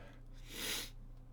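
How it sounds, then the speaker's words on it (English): A single sneeze bursts out close by, a quick breathy blast over a low steady hum, with quiet room tone before and after. "gonna sneeze"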